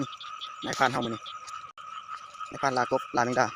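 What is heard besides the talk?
frogs croaking at night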